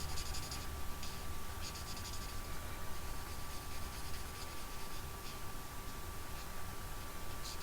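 A dark Mango Melody marker's pencil tip scratches across paper in faint, steady strokes with short pauses, soft and close against a quiet hiss.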